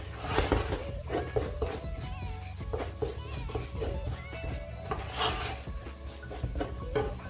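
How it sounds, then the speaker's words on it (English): A spoon stirs pepper and a stock cube into a pot of Nigerian egusi soup, giving irregular scraping and clinking against the pot at close range, alone with no voices. "I'll add the remaining pepper and the remaining stock cube and stir it just to combine everything together"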